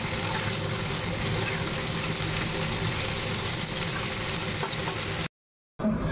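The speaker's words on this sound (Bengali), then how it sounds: "আবার এই অল্পটা পরে ভাজবো, অল্প অল্প করে ভেজে নেব।" Vegetables fry in plenty of oil in a pan with a continuous, dense sizzle throughout, cut by a brief moment of silence near the end.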